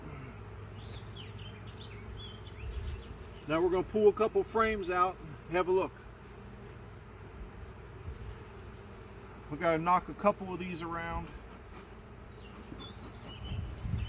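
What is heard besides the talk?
honey bees buzzing around an open hive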